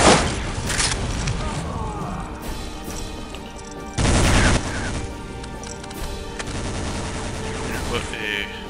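Machine gun nest firing in the video game Iron Grip: Warlord, a dense, continuous rattle of automatic gunfire with overlapping shots and booms, a louder burst in the middle, and game noise underneath throughout.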